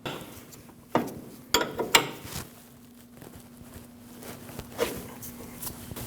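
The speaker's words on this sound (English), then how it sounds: "And now tighten your jam nut." A jam nut being tightened on the steering tie rod of a 2003-2008 Subaru Forester: scattered close metallic ratchet clicks and tool clatter over a faint low hum.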